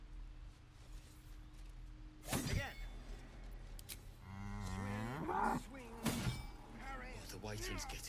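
Cattle moo in Baldur's Gate 3, with a long, wavering low call in the middle and shorter bursts around it, set against quiet game ambience and sharp clattering hits, while voices speak.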